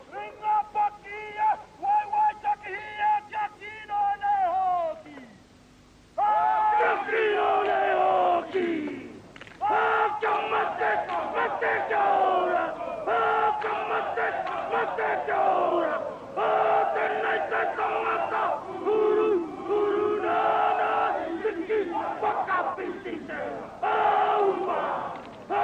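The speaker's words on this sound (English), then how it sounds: "And a great cheer for the New Zealanders there." A rugby crowd at a 1993 South of Scotland versus New Zealand match roars and cheers in long swelling waves, loud and sustained after a brief lull, with a commentator's voice running over it.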